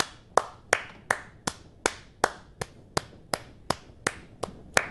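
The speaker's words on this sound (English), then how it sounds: "can you put on the clapping gif" Sharp, evenly spaced single hand claps from a clapping animation repeat about a dozen times in a steady rhythm, crisp and close with no talking.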